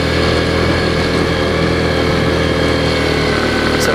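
A Yamaha Champ golf cart engine running in first gear while driving, a steady, loud, unbroken mid-pitched drone close to the mic.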